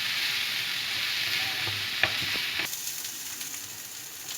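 Chopped vegetables for a chicken samosa filling fry in a pan with a steady close sizzle, and a few sharp clinks and stirring scrapes come through near the middle.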